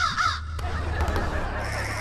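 A woman in a Hindi TV drama imitates a crow with a harsh, nasal caw, loud and close, followed by a rough trailing note and background hum.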